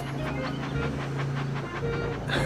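Thomas the Tank Engine running in the Thomas and Friends: Magical Tracks video game, a steady close rumbling engine drone with a faint rhythmic chugging pulse throughout.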